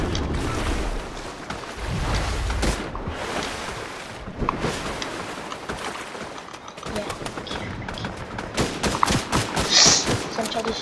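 Bursts of automatic gunfire from the Fortnite video game crackle in uneven clusters, near and sharp, with rapid volleys toward the end; someone talks over parts of it.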